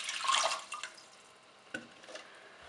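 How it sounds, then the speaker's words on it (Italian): Water splashes and trickles into a pot at first, then fades to a few faint drips and clinks, quiet and close. "Prepariamo lo sciroppo versando l'acqua in una pentola."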